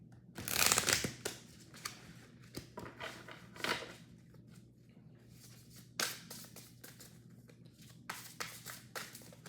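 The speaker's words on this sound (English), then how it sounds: "This one I usually shuffle a couple times and then I pull one off the bottom." Cards of a Mystical Martian Oracle deck shuffled by hand close up, with a loud riffle at the start and then softer, intermittent flicks and slides of the cards.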